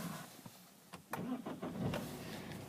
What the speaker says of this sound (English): if we just get the car started up